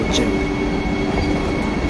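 A Vande Bharat train rumbles loudly and steadily nearby at Howrah station, with a constant low roar and a faint high tone over it.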